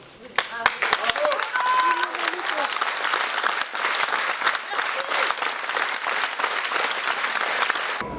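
A theatre audience applauds at an event on Armand Gatti's journalism and theatre, steady crowd clapping lasting several seconds with voices mixed in.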